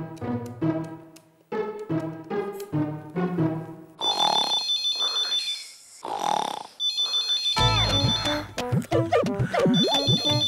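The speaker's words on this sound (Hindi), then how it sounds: "ओके ठीक है, मैं वनराज को फोन करती हूँ।" A telephone ringtone plays in a domestic scene from a Hindi TV sitcom, sounding as a melodic electronic tune that repeats several times, loud and close, with no voices over it.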